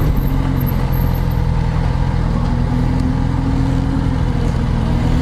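A motorcycle engine runs steadily nearby, a loud continuous droning hum with a faint rise in pitch partway through, heard alone without speech.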